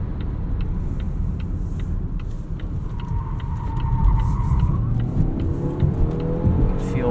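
A 2019 Volvo V60 T6 AWD Momentum speeds up along a highway entrance ramp, engine note rising through gears over steady road and tire noise heard from inside the cabin, with no one talking.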